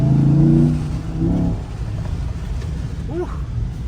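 2015 Cadillac Escalade with a 6.2 V8 and Banks cold air intake, a loud close engine rev that swells and then falls back to a steady driving rumble with faint road noise.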